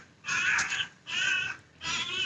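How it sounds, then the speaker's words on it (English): Noisy bird calling outdoors, three loud harsh crow-like caws in a row, each drawn out and evenly spaced, close by and alone. "That's a very noisy bird."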